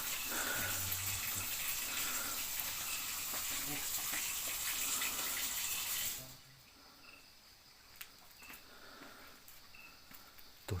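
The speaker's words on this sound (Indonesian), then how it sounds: "Tuh tadi tiba-tiba keran itu hidup sendiri teman-teman." Water from a tap running on its own inside a mosque washroom, a steady loud gush for about six seconds that then cuts off, leaving faint room noise with a few small knocks.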